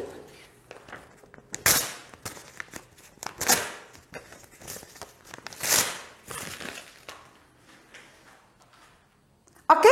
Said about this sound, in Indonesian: ini adalah suara yang berasal dari kertas yang Laushe sobek-sobek.